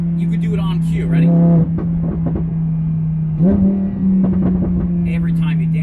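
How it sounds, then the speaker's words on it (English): Lamborghini Huracan LP610-4 with a Soul Performance exhaust, humming low and steady from inside the car while someone talks throughout, with a couple of brief swells in engine pitch. "The Soul Performance exhaust is just awesome on this car."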